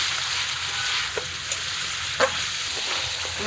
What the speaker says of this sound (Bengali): স্বাদ মতো নুন এখন নেড়ে চেড়ে আরও কিছু সময় কষিয়ে নেব